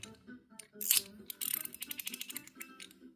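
A titanium three-level mechanical slider being worked by hand, giving sharp ratcheting clicks: a loud snap, then a quick run of evenly spaced detent clicks, close and alone.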